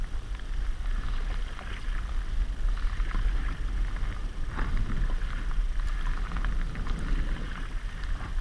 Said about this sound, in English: Nice wee gust coming now, it's actually moving me as well.